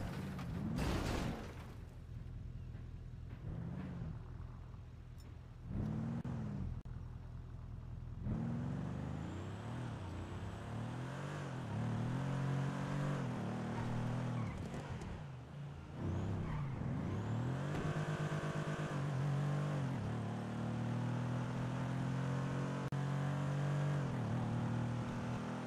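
A car driving and revving in a GTA roleplay game, the engine repeatedly climbing and dropping through gear changes, steady and close throughout with no voices.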